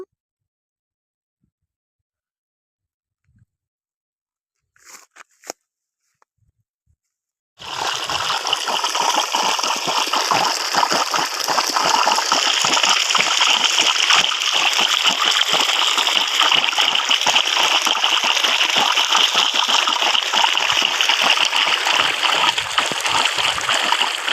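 After a few quiet seconds and faint knocks, irrigation water suddenly pours into a field bed in a loud, continuous splashing rush that keeps flowing steadily to the end.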